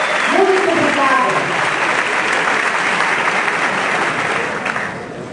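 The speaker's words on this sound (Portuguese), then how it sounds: "Palmas, salva de palmas, nossas queridas religiosas." A crowd claps in sustained applause, loud and dense, fading slightly toward the end, with a voice briefly heard over it at the start.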